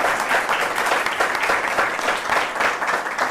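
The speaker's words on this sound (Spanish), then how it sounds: "con un fuerte aplauso" A live audience at a political talk gives loud, sustained applause, dense even clapping that fills the room without a break.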